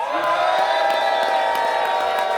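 After a wrestling main event, the crowd cheers loudly for Gia Adams, with sustained whoops and shouts blending into one continuous roar that stays strong for the whole stretch.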